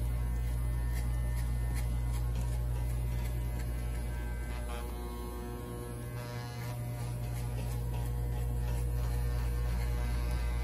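Electric hair clipper cutting hair for a fade at a barber's chair, a steady, close, loud buzzing hum running continuously with a slight dip midway, no voices.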